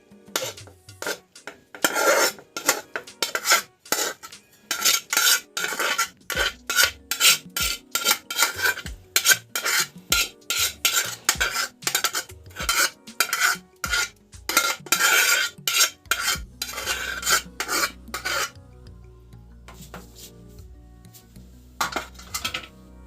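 Egg fried rice is stirred and tossed in a pan, street-style, with rapid metallic spatula clanks and scrapes in a busy, uneven rhythm, loud and close, easing into a quieter simmering hum near the end.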